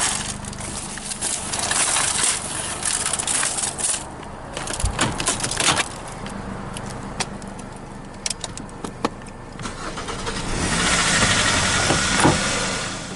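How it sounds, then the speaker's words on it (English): A 2010 Kia Forte's engine started with a USB cord runs at a steady idle in a parking area, with scattered clanks and rattles over the rumble and a rising rush of noise near the end. "After successfully activating the engine with a USB cord"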